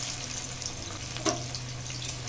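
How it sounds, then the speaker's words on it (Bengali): Chopped onions sizzle in mustard oil in a kadai, a soft, steady frying crackle with one brief clink of a utensil, fairly quiet and with no talk. "পেঁয়াজ খুব ভালো করে ভেজে নেব"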